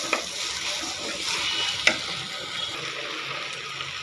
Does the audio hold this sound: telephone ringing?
no